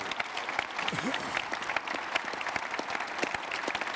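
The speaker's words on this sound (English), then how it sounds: "we need a big round of applause for all these men up here" A conference crowd applauds a panel on real-time data and referee analytics, giving steady, full-room clapping with sharp individual claps standing out, while a voice carries on over it.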